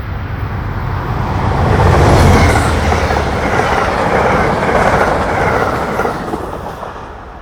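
Amtrak Keystone Corridor train 42 charging eastbound along Harrisburg Pike, a loud rumbling pass with rhythmic clickety-clack of wheels over rail joints that swells and holds for the whole stretch, then eases slightly.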